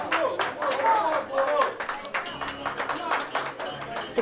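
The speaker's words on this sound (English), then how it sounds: "Clapping you hear" Scattered audience clapping in a pool hall at an 8-ball league tournament after a rack is won, a handful of hands patting irregularly while a voice talks over it.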